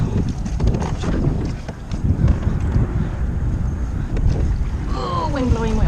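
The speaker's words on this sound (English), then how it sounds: "Oh, wind blowing way over." Strong wind buffets a microphone on a small boat while sight casting for redfish, a continuous loud roar with low rumble throughout and a brief voice near the end.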